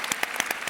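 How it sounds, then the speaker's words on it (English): A brief burst of audience clapping at a sports panel, a handful of distinct claps in quick succession, moderately close and not very loud. "I think that deserves a round of applause."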